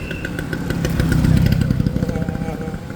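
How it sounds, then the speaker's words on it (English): Motorcycles rumble past on a rainy nighttime street in Bali. The engines grow louder and nearer, then move off, over the patter of rain, and a voice is heard briefly. "trying to dodge the motorcycles."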